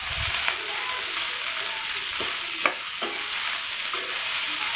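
Crumbled leftover idli mixture is stirred in a pan over a quiet background hiss, with a few sharp taps and scrapes of the spoon against the metal spaced out across the stretch.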